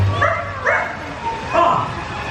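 A small dog, Zero, yips and whimpers in a few short high barks at a Disney Halloween show, heard close amid other voices and sounds.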